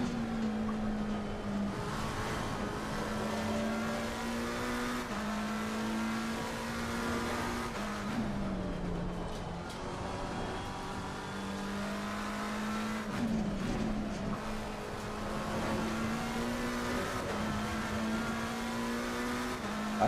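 Race cars in the sim racing game Assetto Corsa Competizione roar steadily close by for the whole stretch, a sustained engine drone with shifting pitch as throttle rises and eases, no talking over it.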